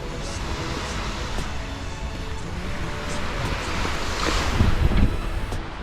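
Ocean surf washing onto the sand of Malaga beach at sunrise, a steady broad wash with wind buffeting the microphone, swelling louder near the end as a wave breaks close by.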